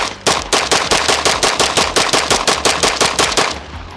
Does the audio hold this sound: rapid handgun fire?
yes